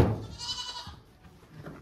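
A heavier-built goat gives a single bleat near the start, fairly close and clear over a quiet farm background, with a softer faint call near the end.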